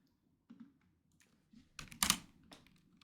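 Scattered keystrokes on a computer keyboard, a few soft isolated taps followed by a louder cluster of clicks, close and quiet with no talking.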